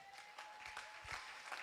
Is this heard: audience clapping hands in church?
yes